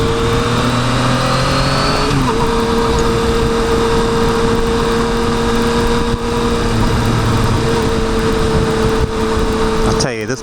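A Yamaha FJ-09 motorcycle engine drones steadily while riding on city streets, loud and close, with a pitch shift early on as the revs change, under constant wind noise.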